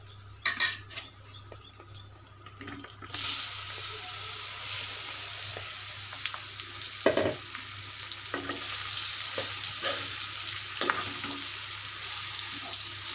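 Raw mango pieces sautéing in hot oil with asafoetida for mango pickle, a loud steady sizzle that swells after a brief quieter start, with occasional clinks and scrapes of a spoon against the pan.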